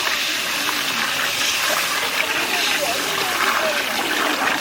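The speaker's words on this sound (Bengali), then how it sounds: "এখন দিয়ে দেবো আমরা গরম মশলা, পরিমাণ মতো জল দিয়ে একটু ঝোল করে নেব।" Steady, loud rush of water being poured into a pot of spiced curry masala with garam masala, outdoors in a village kitchen, a continuous splashing gush throughout.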